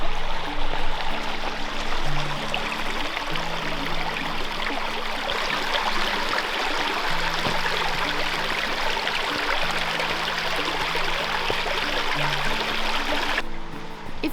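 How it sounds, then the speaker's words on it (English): A stream rushes steadily over rocks at a trail crossing below a waterfall in North Georgia, a continuous close splashing roar with a low tonal hum running underneath. "You're gonna cross over the stream and continue on the other side of the stream."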